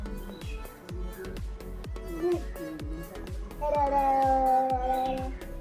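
Someone imitates a cat in a drawn-out meow over a rhythmic tapping, with people talking nearby.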